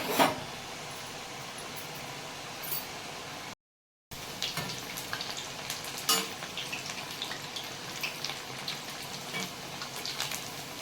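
Chakli frying in hot oil over low gas, a steady crackling sizzle with scattered sharp pops and a brief dropout partway through, heard alone without talk.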